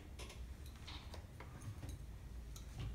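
Sewing machine running a straight stitch along the side seams of a homemade sweater, giving a steady mechanical whir with rapid light ticking and a few sharper clicks, close and moderately loud, with no talking.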